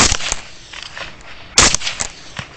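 Sharp rifle shots ring out during a nighttime hog hunt, a couple of crisp reports at the start and a louder one midway, with fainter echoing cracks between them.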